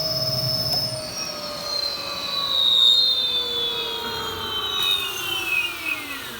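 A 2023 Super Soco CPx electric scooter's motor whines at speed, with smooth high tonal lines sliding gradually in pitch over a steady rush of wind and road noise, nearby and fairly loud, with no talking.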